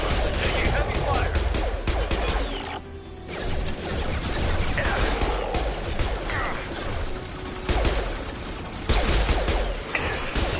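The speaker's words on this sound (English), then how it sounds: "Taking heavy fire." Heavy video-game gunfire crackling in dense, rapid bursts with crashes and impacts, nearly continuous and loud, breaking briefly into a short lull before the barrage resumes.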